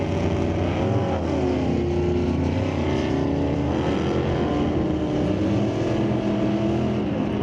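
Drag race cars roar down the strip at Mission Raceway Park, a steady, loud engine drone with harmonic tones rising and falling through a close race in the ET Series, including a '67 Camaro.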